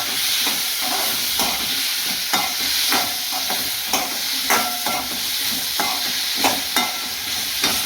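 Cauliflower pieces sizzle in a hot pan for onion sambar while a spoon stirs them, sending a steady frying hiss punctuated by regular scraping strokes, close and loud with no voices.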